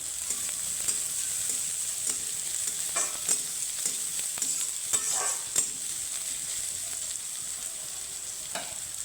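Coconut pieces frying in a pan, cooked alongside grated ginger, give a steady hiss of sizzling oil with occasional clinks and stirring scrapes from a utensil, close and fairly loud with no voices.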